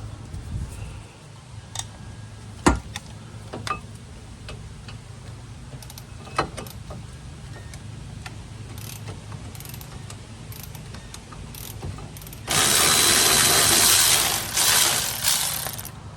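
Cordless impact wrench loosening a brake caliper bolt on a 2008 Honda Civic: scattered clicks and ratcheting taps, then a loud sustained buzzing whir of about four seconds near the end.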